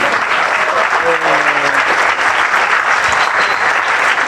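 An indoor audience applauds a doctor after a talk, a dense, loud and steady clapping that fills the whole stretch, with faint voices and murmurs underneath.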